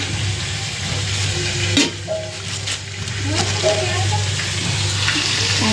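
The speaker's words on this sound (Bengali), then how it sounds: "মাংস কষছি, যেটা জল দিয়ে দেবো।" Meat being braised and stir-fried in a pan for a home-cooked Bengali meal, with steady sizzling and occasional stirring scrapes over a constant low hum, faint voices in the background.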